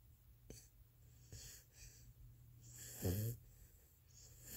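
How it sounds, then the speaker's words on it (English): Soft, rhythmic snoring breaths from a dog asleep in a car's front seat, with a snort-like rumble partway through, all fairly quiet and close. "she's snoring so freaking loud"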